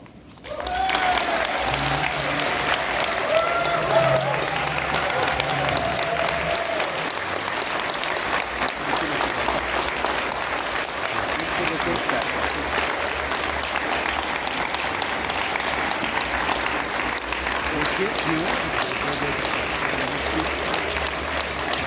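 Sustained applause from the audience at the Quebec agriculture Hall of Fame awards ceremony, a dense, even wash of clapping that holds steady at full strength for about twenty seconds without letting up.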